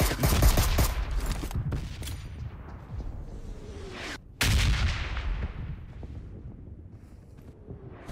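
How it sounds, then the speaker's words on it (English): A grenade detonates in the video game PUBG, a loud, close blast with a long rumbling decay, followed after a short cut by a second heavy boom that fades out, with no talking. "That was a bad nade."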